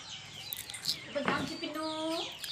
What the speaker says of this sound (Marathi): कोंबडीचे पिल्ले